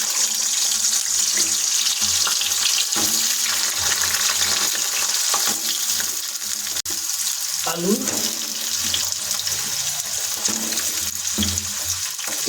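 Carrots go into hot oil for a vegetarian khichuri, giving a constant loud sizzle and hiss with some clinks and stirring, close and steady, with no voice.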